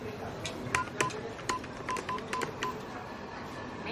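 A telephone number is dialed as a quick series of about nine keypad tones in an irregular rhythm, close and clear over faint background noise.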